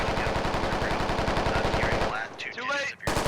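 Rapid automatic gunfire in a squad-based military shooter game, a loud steady rattle of shots for about two seconds, then a brief gap filled by other game sounds before firing resumes.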